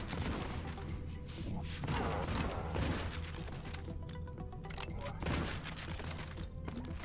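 Revolver shots in the video game Cultic: heavy, booming reports fire in sequence over a dense, loud mix of game sound and background music.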